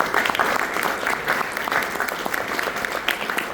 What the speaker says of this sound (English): Let's give Scott a hand.